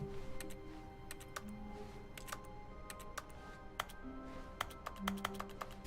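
A computer mouse is clicked while The Stanley Parable is being played. The sharp, quiet clicks come in irregular clusters and singles over a low, steady game ambience with soft tones.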